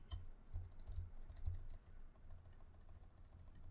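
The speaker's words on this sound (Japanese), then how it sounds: "今、マウスをクリック" A quiet silent mouse clicks several times in irregular succession, each click soft and close against a faint room hum, with no one talking.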